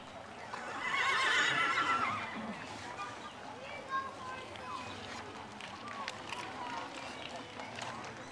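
Horses in a horse-and-carriage parade at a strawberry festival give a loud, near whinny, then hooves clip-clop along under the outdoor crowd noise, with people talking throughout.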